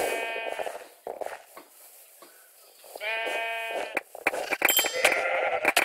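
Sheep bleat in a Minecraft Sheep Quest minigame, several harmonic, wavering baas in quick succession, loud and close, mixed with clicky game effects and other in-game noises.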